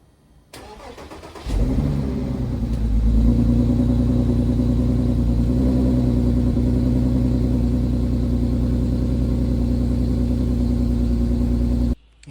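A 2010 Porsche Cayenne engine cranks and fires up, then settles into a steady, loud, close running drone as the SUV pulls away and drives, with a constant low rumble throughout.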